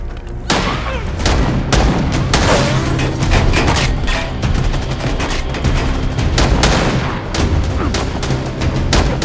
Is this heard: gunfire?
yes